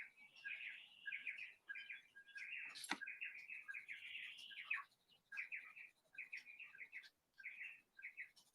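Wild birds chirp and twitter continuously on a veranda, a busy chorus of fairly close tweets and trills. One sharp knock stands out partway through.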